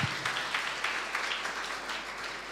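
Congregation in a church applauding in the Lord's name, a sustained patter of many hands clapping at moderate level, fairly even throughout and heard from a slight distance.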